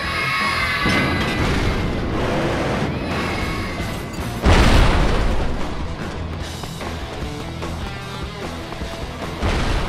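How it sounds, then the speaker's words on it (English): Cannon salute booms in the video game Thrillville: Off the Rails, a loud burst standing out from dense, continuous game music and noise. "Sending you off with a 21 cannon salute."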